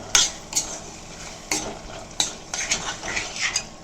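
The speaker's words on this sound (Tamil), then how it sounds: "குழம்புல குத்தின்ட்டு நல்லா கலரி விட்டுக்கலாம்" A spoon stirs dal into okra kuzhambu in a pot, giving several sharp scraping clinks against the metal in an uneven rhythm, close and alone.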